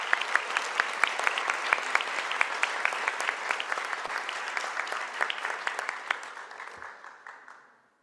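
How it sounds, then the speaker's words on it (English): Steady applause from a crowd at a medical school graduate studies welcome ceremony, many hands clapping continuously before gradually fading out at the end. "we can give this group of students a big round of applause"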